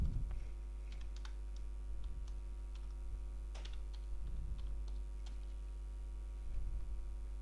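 Keys tapped in quick irregular bursts on a computer keyboard while text is entered, soft and close, over a steady low background hum with no talk.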